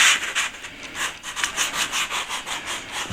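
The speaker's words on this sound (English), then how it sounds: "It brings the sponge sander to do a very good job in the middle of the angles." A sponge sander works over plasterboard joins in the middle of the angles, a steady back-and-forth rasping rub repeating in quick even strokes, close and alone.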